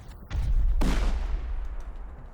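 Gunfire in the survival game Rust: a close, heavy shot booms, then a second louder blast follows with a long, rumbling decay into the distance.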